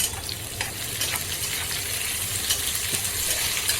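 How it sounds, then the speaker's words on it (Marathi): Chopped medium onion frying in hot oil, a dense crackling sizzle with spoon scrapes and light metallic clinks, close and steady, no voices. "एक मध्यम आकाराचा कांदा मी घेतलेला आहे कापून तर तो पण आपण तेलामध्ये टाकून भाजून घेऊया"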